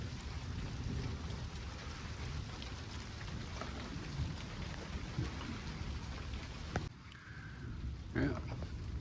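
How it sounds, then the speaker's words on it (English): Rain falling during a thunderstorm with high winds, a continuous hiss of drops on surfaces with a short dip near the end, while a person talks quietly over it. "Getting a bit more rain."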